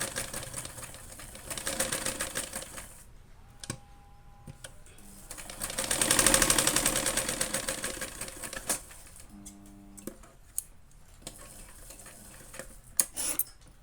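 A sewing machine stitches fabric for a hanging tassel in bursts of rapid mechanical whirring and needle tapping, one longer run swelling louder in the middle, broken by pauses with small clicks and handling sounds.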